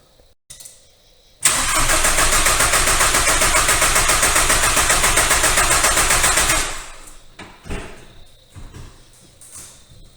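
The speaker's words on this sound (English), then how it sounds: "I'm going to go ahead and try it, crank it over now, see if it helps." A VW ALH TDI diesel engine cranks over on the starter with its fuel lines cracked open, a loud, rapid, rhythmic churning that runs for about five seconds, then stops, leaving some quiet clanks and shuffling.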